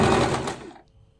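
A sewing machine stitches pleats on an Afghani salwar, a loud dense whirring burst running close for most of a second before cutting off abruptly into near silence.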